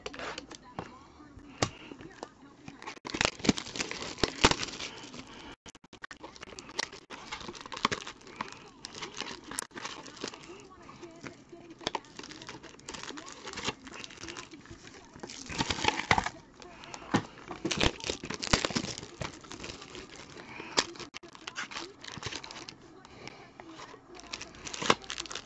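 A knife slices open and peels apart packaging on 2018-19 basketball card boxes, with scattered crackling, tearing and cardboard crunches at close range, clustered in bursts across the span.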